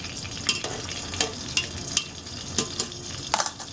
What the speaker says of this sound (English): deep fry the meat